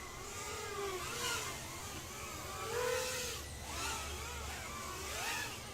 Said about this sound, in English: All kinds of traffic out here.